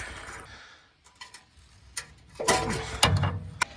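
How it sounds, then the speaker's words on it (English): A big ratchet works on a rusty size 14 exhaust nut under a Nissan Sentra or Altima, giving a few scattered clicks, then a louder run of ratcheting and metal scraping near the end. "I'm just gonna get a big ratchet, put this on here"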